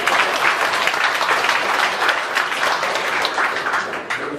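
A church congregation claps during a sermon, a loud, dense round of applause that carries evenly and then tapers slightly at the close.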